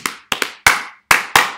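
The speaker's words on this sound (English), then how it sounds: "Now we're clapping this one back." Six sharp hand claps ring out close and dry in an uneven rhythmic pattern, two quick pairs among single claps, each with a short decaying tail and silence between.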